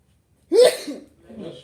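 A single sharp sneeze close by, followed by a softer breathy exhale after a brief pause.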